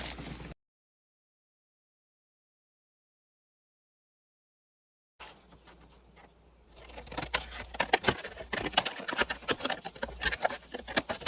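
Scissors snipping paper for a journal flip out, a brief sound at the start, then silence, then a run of crisp, close clicks and patters that grows busier.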